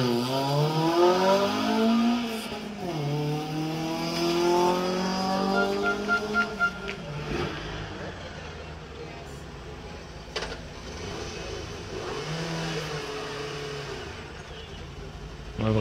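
A Peugeot 106 Rally car launches at the start of a rally special stage, its engine revving hard and climbing through gears before fading into the distance, with a crowd and voices faintly audible around it.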